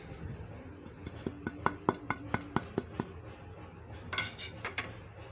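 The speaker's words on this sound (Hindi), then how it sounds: "ये सारे मसाले हम इसके अंदर डाल देंगे।" A series of quick metallic clinks as spoons of spice powders are tapped into a bowl of masoor dal kabab mixture, about a dozen evenly spaced ticks, then a short rattling burst, fairly close and quiet.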